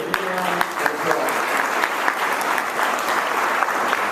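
A jobs expo audience gives loud, sustained applause for the businesses present, dense rapid clapping with a few sharper claps, continuing steadily throughout.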